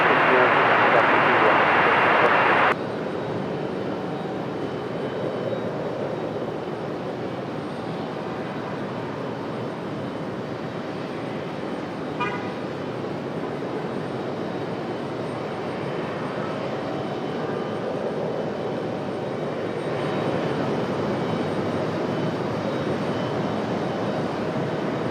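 A Delta Boeing 737 taking off at Raleigh-Durham International Airport, heard as a sustained, distant jet roar with a rumbling low end that holds steady throughout, under faint radio chatter.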